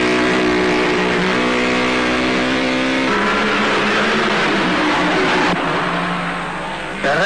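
A Rally 2500 race car with a Lancia-derived eight-cylinder engine that revs to 8,000 rpm roars loudly, its pitch climbing through gear changes before easing off near the end, with no speech.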